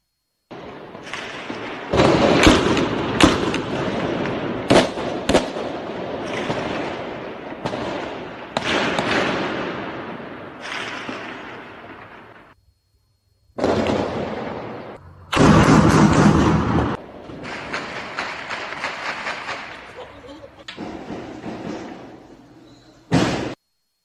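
Rapid bursts of gunfire from a shootout with military police in Minas Gerais, Brazil, crack in clusters, loud and echoing, with brief pauses between volleys and a final isolated shot.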